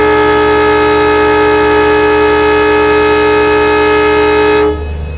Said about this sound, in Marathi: ट्रेनचा हॉर्न वाजला.